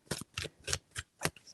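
Tarot cards are shuffled in five quick riffling bursts, evenly spaced and close, with no voices.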